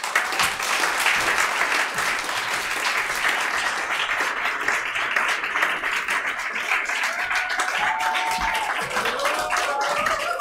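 A concert audience claps steadily and warmly as string quartet musicians walk onto the stage, a dense, sustained applause filling the hall, with a faint voice near the end.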